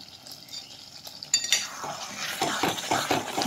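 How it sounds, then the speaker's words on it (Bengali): A spoon scrapes and clinks against a pan while amla pickle cooked with jaggery and roasted spice powder is stirred, with irregular metallic knocks that grow busier toward the end. "এইভাবে একটু নাড়াচাড়া করে নিচ্ছি।"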